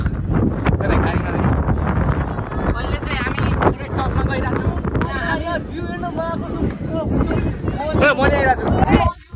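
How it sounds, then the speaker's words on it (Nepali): Strong gusting wind buffets the microphone throughout, with people talking underneath. "हावा धेरै चलिरहेछ"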